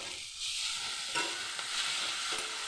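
Fish roe fried with spice paste, small potatoes and tomato in a pan: a soft, steady sizzle with a few light stirring scrapes, fairly quiet and without voices.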